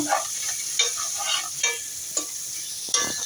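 Chopped tomatoes fry lightly in a pan for pasta, giving a steady close sizzle with intermittent scraping stirs that land at irregular intervals; no one speaks.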